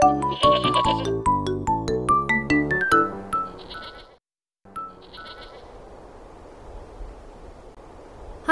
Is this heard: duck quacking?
no